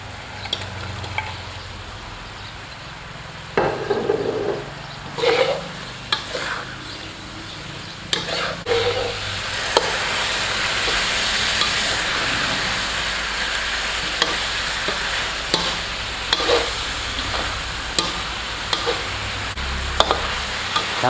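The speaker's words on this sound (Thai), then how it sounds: "ผมขอนำปลาทอดทับลงเข้าไปคลุกกับในกระทะครับ" Fried saba fish being tossed with sweet chili sauce in a pan, close steady sizzling with intermittent scraping and clattering of a spatula, building to a dense hiss midway and continuing without speech.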